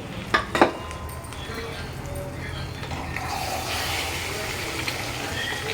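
Chapati dough with coriander powder being stirred in a pot: a couple of sharp utensil clinks at the start, then steady scraping and mixing noise that swells slightly toward the end.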